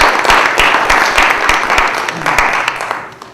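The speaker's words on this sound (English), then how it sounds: "just ask a big round of applause" Applause from the audience at a talk on a plan to eliminate federal taxes, a dense wash of many hands clapping with a steady broadband texture that fades toward the end.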